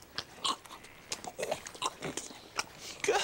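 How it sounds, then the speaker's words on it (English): A horse chews food, likely an apple, up close: wet crunching and grinding bites in an irregular rhythm, fairly quiet, with brief pauses between chews. "Listen to the sound that horses make when they chew."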